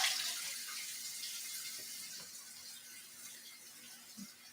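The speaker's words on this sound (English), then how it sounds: "I need to get some cold water going here" Cold water running from a kitchen tap, a soft, steady hiss of flowing water that fades gradually over a few seconds, heard alone.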